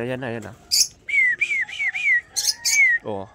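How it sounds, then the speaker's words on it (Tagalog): Red turtle doves kept as pets give a run of close, clear chirping calls, several short tonal notes in quick succession with brief pauses, plus a short low human voice at the start and end. "Yan yung mga alaga kong red turtle dove, ang tapang."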